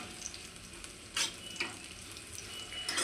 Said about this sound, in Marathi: हे मी छान परतून घेते